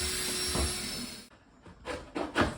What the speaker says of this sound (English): I am pre-drilling some holes in the baffles so that they don't split when we screw them together.